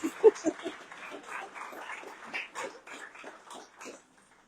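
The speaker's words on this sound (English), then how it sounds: "Congratulations to the service dog team of Aaron, Ava, and Colton" A service dog at a graduation ceremony gives a string of faint, short whimpering and snuffling vocal sounds, quiet and close, fading out by the end.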